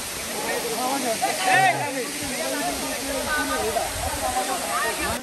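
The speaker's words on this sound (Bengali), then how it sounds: "আমরা অলরেডি পৌঁছতে সক্ষম হয়েছি ঝর্ণাটা" Khoiyachora waterfall at Sitakunda, Chattogram, pours in a steady broadband roar and hiss close by, with people talking over the rushing water throughout.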